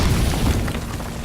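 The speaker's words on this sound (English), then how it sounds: "frags are supposed to be loud" A frag grenade goes off in a Metal Gear video game, one short loud booming blast with a deep rumbling low end that stays dense and heavy across its brief length.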